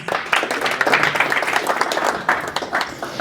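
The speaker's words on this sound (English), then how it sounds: "Give them a round of applause." An audience at a Tech Alley Henderson talk breaks into applause, a busy crackle of many hands clapping at close range that carries steadily through the moment without letting up.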